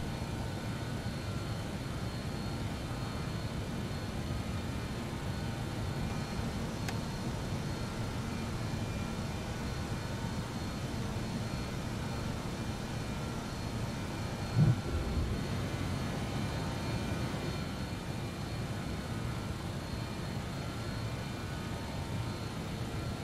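An airliner in Microsoft Flight Simulator takes off in a crosswind, a steady broadband engine roar that holds through the run with one brief thump midway. No talking is heard.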